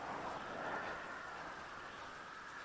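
Steady rain in the video game GTA during a bicycle ride, a continuous broadband hiss at an even level throughout, with no talking.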